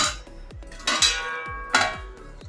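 A metal lid set down on a cooking pot of mung bean masala curry: a few sharp metallic clanks that ring briefly, close and fairly loud, with no talking.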